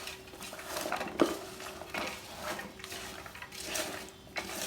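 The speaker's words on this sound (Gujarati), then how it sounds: "બધું બકાલું મિક્સ કરી દેવાનું." Mixed vegetables for umbadiyu are stirred in a pot, with quiet scraping and shuffling strokes repeating in an uneven rhythm and one sharp metallic clink of utensil against pot.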